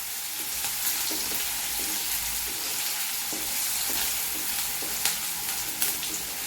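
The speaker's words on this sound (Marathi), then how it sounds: "कांदा आपला भाजत आहे बघा" Onion frying in a pan in a home kitchen, a steady crackling sizzle with occasional sharp pops and light stirring scrapes, close and even, with no talking.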